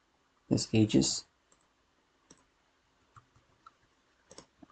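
A computer keyboard is used while modelling in Blender: after a brief burst of voice, a handful of light, scattered key clicks sound close by in otherwise quiet surroundings.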